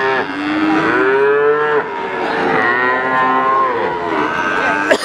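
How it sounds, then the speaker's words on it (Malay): Cattle at the Waginan Warkurjo cattle market in Pati moo loudly and close, several long, drawn-out calls overlapping one after another with a bustle of background market noise and no clear talk. "Inilah situasi dan kondisi pasar sapi Waginan Warkurjo Pati."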